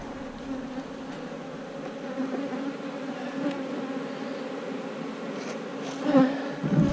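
Honeybees hum steadily inside a two-frame mating nuc, a dense continuous drone close by, with a slightly louder swell near the end.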